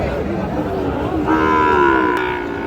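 A Sahiwal bull calf moos at a cattle market, one long, loud, drawn-out call that rises midway and holds steady, heard over a constant crowd murmur.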